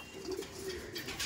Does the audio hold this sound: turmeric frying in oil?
no